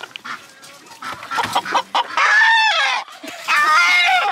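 A rooster on a farm clucks and crows in loud, close bursts, with a long drawn-out call in the middle and another at the end, mixed with short clucks and brief human voices.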